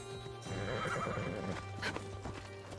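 A horse in the Assassin's Creed Odyssey video game gives a loud, drawn-out whinny, with hoofbeats clip-clopping as the summoned mount arrives.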